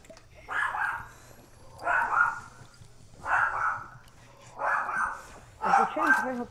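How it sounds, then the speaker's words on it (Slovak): A pet dog barks in the background of a home voice chat during a Fortnite match: five evenly spaced, muffled barks about a second apart, each short and mid-pitched, over a low steady hum. "A počujem tvojho psa dvakrát"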